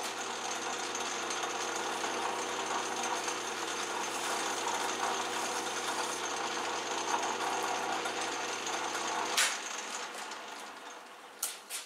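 A home-workshop machine cuts a metal workpiece in a steady, loud, grinding mechanical drone for about nine seconds, then stops, leaving a few light metallic clinks and knocks.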